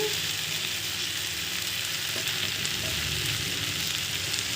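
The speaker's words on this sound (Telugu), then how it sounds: "చూడండి ఇలా దొండకాయ అయితే బాగా ఫ్రై అయిపోయింది" Ivy gourd frying in a pan makes a constant dense sizzle and crackle close by, steady throughout with no talk.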